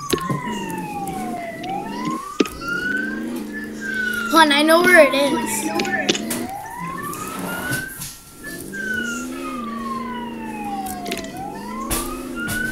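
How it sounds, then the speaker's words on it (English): A police siren in a video game wails in long rising and falling sweeps, repeating steadily at moderate volume while players talk over it. "I'm the one with the siren."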